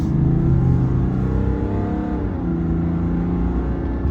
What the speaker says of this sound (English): you can hear the turbo spool up down there